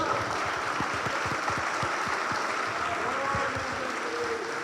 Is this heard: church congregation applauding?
yes